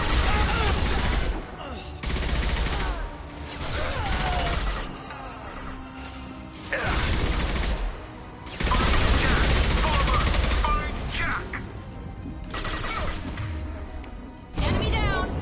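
Bursts of suppressive gunfire in the video game Mass Effect 2, loud and sustained with brief gaps between volleys, mixed with crashes and game voices.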